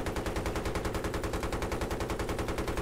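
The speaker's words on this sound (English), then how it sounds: "It's like something is automatically shooting. Yeah, the gunship." Rapid automatic cannon fire from a gunship in Battlefield 3 multiplayer, a loud, evenly paced stream of heavy shots that fills the whole stretch without a break.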